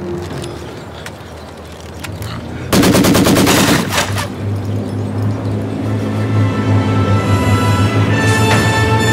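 Loud burst of rapid machine gun fire in the video game Company of Heroes 2, sharp repeated shots cutting in then giving way to droning engine and battle ambience, with faint game voices.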